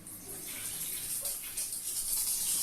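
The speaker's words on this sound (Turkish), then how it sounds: "Şimdi suyu açıyoruz." Water runs steadily from a tap feeding an electric Baymak water heater, a soft continuous rush of hiss that stays even and fairly quiet throughout, with no talking.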